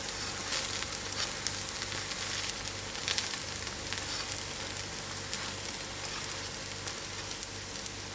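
A lamb mince stuffed roti sizzles and crackles steadily in a hot pan, a dense, even frying hiss that carries on without a break for several seconds, close up and with no talking.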